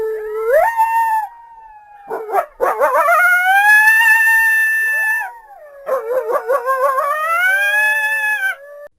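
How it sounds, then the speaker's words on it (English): A coyote gives a series of loud, wavering howls with rising and falling pitch, broken by a burst of short yips partway through. No voices are heard. "Coyote."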